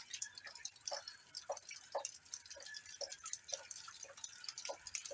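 Heavy rain drips steadily onto a flooded yard during a storm, a close, irregular patter of drops falling alone with no voices.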